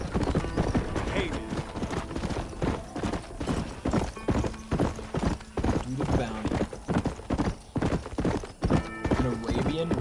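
In Red Dead Redemption, horse hooves clip-clop in a steady, loud rhythm on a dirt trail, with occasional whinnies and someone talking over the hoofbeats.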